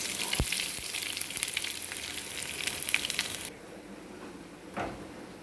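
Curry leaves and shallots crackle and sizzle in hot oil for a tempering poured over a roasted-coconut chickpea curry, a steady close frying hiss that cuts off abruptly midway, followed by one brief clatter.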